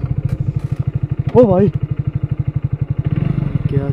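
A motorcycle engine thumps steadily at night in a rapid, even pulse, loud and close throughout, while a man calls out briefly over it.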